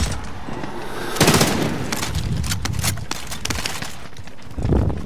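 Rapid gunfire bursts from a battle royale video game firefight, loud and close, with sharp repeated shots clustering in dense volleys and a brief pause before another burst near the end.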